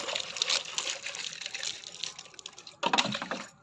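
Water is flung by hand over plants in a village garden, making soft irregular splashes and patters; after a short lull, a louder burst of splashing follows.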